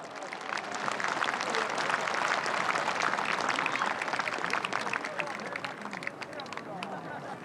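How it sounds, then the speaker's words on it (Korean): Audience applause at the inauguration of South Korea's 20th president, a broad, steady wash of clapping from a large outdoor crowd, sustained throughout with crowd murmur mixed in. "큰 박수 부탁드립니다."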